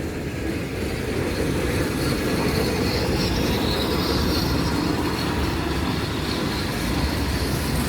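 Tram passing along Istiklal street in Taksim, Istanbul, a steady rumbling roll of wheels on rails with faint squeal, close and continuous throughout.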